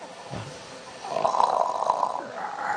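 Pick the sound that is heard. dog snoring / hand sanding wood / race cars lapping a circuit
dog snoring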